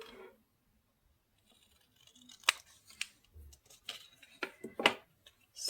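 Scissors trimming paper tags for a nature-themed craft folio, a few crisp snips and paper rustles close by in a quiet room, with sharper cuts near the middle and end.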